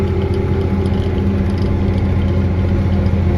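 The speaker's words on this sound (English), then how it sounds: "the old tractor's working good" An old farm tractor engine runs steadily at seeding time, a loud, continuous low rumble with a droning hum and faint rattles, heard from close by without talk.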